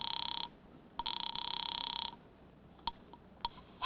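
Telephone ringing in a phone booth in an old radio drama, two loud, close bursts of electric bell ringing followed by a couple of faint clicks.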